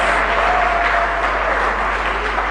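An audience at a Ghanaian public forum on the economy applauds a speaker: a loud, sustained wash of clapping from many hands, even and unbroken throughout.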